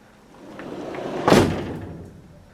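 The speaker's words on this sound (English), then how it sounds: "sometimes if I slam the door," A door slammed shut once in a snowy setting, a single sharp thud rising out of quiet background and decaying over about a second, fairly close and loud.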